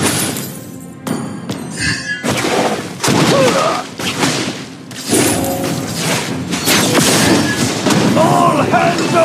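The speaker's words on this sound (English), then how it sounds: "team destroyed a turret!" A turret is destroyed in a Mobile Legends match, heard as a dense run of loud, layered explosive booms and gunfire-like bursts that carry on without a break for several seconds.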